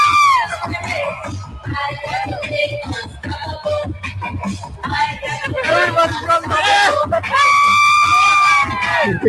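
A large crowd roars with cheers, shrieks and whoops, swelling in intensity and growing loudest toward the end, with voices tangled into the din.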